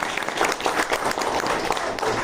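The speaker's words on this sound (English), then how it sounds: "Let's give him a big round of applause, ladies and gentlemen." An audience at a Santa Ana event applauds the city mayor with brisk, dense clapping that holds steady for a couple of seconds.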